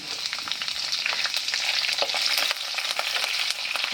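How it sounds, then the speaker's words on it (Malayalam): Ginger, garlic and green chillies frying in a pan for a Kerala-style avoli fish curry, a loud, close, continuous crackling sizzle with scraping stirs throughout and no voices. "നമുക്ക് ഇനിയിപ്പം പച്ചമുളകും കൂടെ അങ്ങോട്ട് ചേർത്ത് കൊടുക്കാം."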